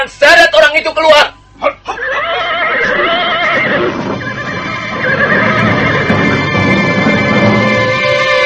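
Horses whinny and neigh loudly at the start, followed by clip-clop and shuffling as riders dismount, with a voice talking over the horses for most of the clip.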